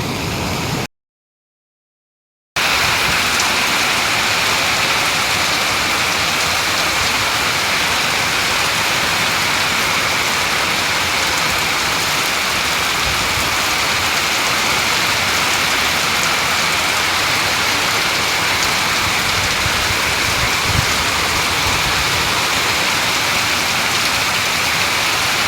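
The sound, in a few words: heavy monsoon rain in Nepal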